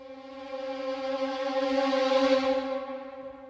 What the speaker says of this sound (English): if we were moving from this note to this one very fast, it would sound something like this